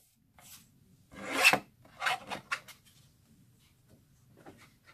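Cardstock being trimmed for a handmade card with a paper trimmer, giving a quiet close rasping slide and a few short scraping strokes against a near-silent background.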